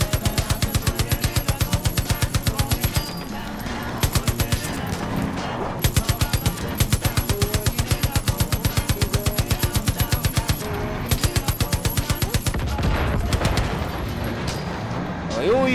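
Rapid automatic gunfire from Far Cry 5 rattles in dense repeated bursts, with loud music playing underneath and brief gaps between volleys.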